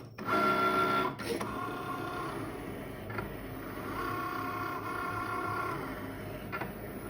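Cricut cutting machine working through cardstock, a steady mechanical whirring with motor tones shifting as the carriage moves, punctuated by a few clicks, close and quiet.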